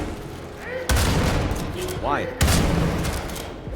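Gunfire in the shooter video game Sulfur: two heavy, booming shots about a second and a half apart with rumbling tails, while a voice briefly speaks between them.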